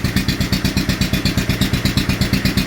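A carbureted motorcycle engine idles close by with a steady, loping, pulsing beat at a low, slightly uneven speed, loud and alone without voices.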